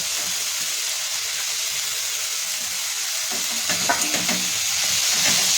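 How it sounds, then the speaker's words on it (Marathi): Cut dry fish being sautéed in masala in a hot pan, a steady close sizzle and hiss with stirring scrapes becoming more frequent in the second half. "आता ह्याच्यामध्ये आपण कट करून घेतलेली माकली टाकून घ्यायची"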